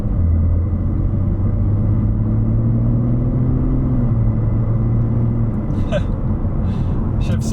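A BMW F30 with the B58 engine and a flashed XHP transmission tune accelerates, its steady low engine drone rising through gears with a quick shift break, heard from inside the cabin under loud continuous road noise.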